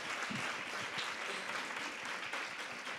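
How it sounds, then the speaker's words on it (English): An audience at a women in the workforce panel breaks into applause, a dense steady wash of many hands clapping in a room, heard faintly and evenly throughout. "let's give each other just a round of applause"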